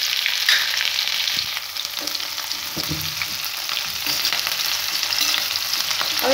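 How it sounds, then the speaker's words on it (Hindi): Ginger paste, garlic and green chillies sizzle steadily in a hot pan, a constant crackling fry with occasional stirring scrapes, close and uninterrupted. "अब इन तीनों चीजों को अच्छे से भूनेंगे"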